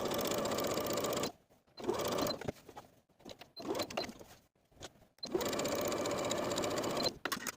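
Sewing machine edge stitching a summer top, running in fast steady bursts separated by short pauses, close and clear with no talk.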